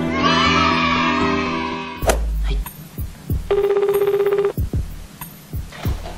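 A telephone ringing tone while a call is being placed: after music cuts off, a repeating ring pattern sounds clearly in a pulsed burst with some background noise, no one speaking.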